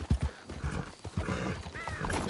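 In Red Dead Redemption 2, horses clop and snort nearby, hooves thudding irregularly, with a brief whinny rising over the movement toward the end.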